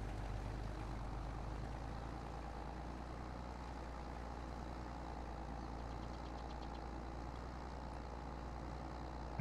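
A tractor engine in the Farming Simulator video game strains under steady throttle, a continuous loud low drone with a knocking, rumbling texture that holds unbroken from start to finish.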